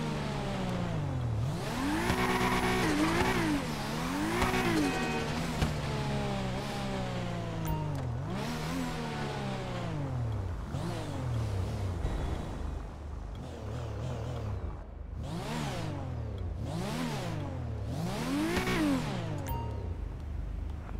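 Fast car in GTA 5, a Mark X 300G Premium, revving hard with repeated rising and falling engine whines as it accelerates and shifts, loud and close, with no talking.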